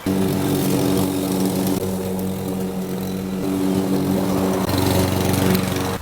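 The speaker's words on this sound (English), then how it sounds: "by using the blower, it blows all the crap out, and then I can kind of see what I'm dealing with there" A gas leaf blower blasts debris out of a Bermuda grass lawn during renovation, a loud, steady engine roar with a slight dip and rise in pitch, close by and with no voices.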